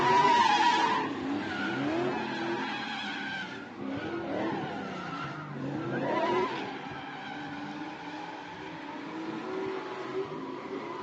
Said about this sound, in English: Oh, and Philip spins in the rear.